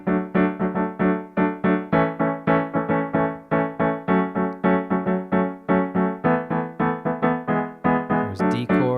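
Piano or synth chords hammering out the verse rhythm of a song at full tempo, a steady run of punchy repeated chords with short decays, close and loud, alone without talk.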